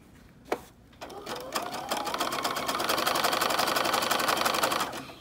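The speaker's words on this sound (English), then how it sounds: "I'm just letting the sewing machine take it in" A sewing machine runs a zigzag stitch along hem tape on a uniform skirt. A click comes first, then a steady rapid mechanical chatter that holds for several seconds, close and clear, with no talking.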